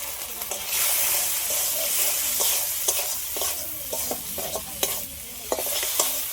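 A spice paste of poppy seed, mustard, melon seed and green chilli, cooked with green tomato, sizzles and fries in oil in a pan. A utensil scrapes and stirs it in steady strokes, with repeated sharp clicks against the pan.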